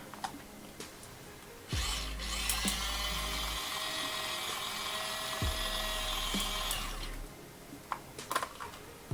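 An electric sponge-washing machine churns with water and soap, a steady motorized whir with a drill-like whine that starts abruptly, runs for a couple of seconds, briefly dips, resumes, then stops, followed by scattered small knocks.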